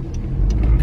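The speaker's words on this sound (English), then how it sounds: "Is there a car behind me?" A car passes close behind someone standing outdoors, its low engine rumble swelling toward the end of the moment, with no talk over it.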